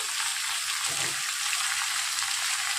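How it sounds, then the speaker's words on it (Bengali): Mixed vegetables (potato, taro, pointed gourd, eggplant, pumpkin, radish) tipped into hot oil tempered with cumin and bay leaf, giving a steady loud sizzle with a brief burst as they land, no talk. "তেলের মধ্যে জিরা আর তেজপাতা ফোড়ন দিয়ে দিয়েছি, তার মধ্যে ঢেলে দিলাম সবজি কাটে রাখা সবজিগুলো"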